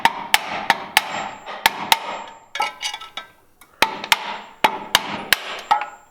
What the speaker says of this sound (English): Gets out hammer, starts banging on things.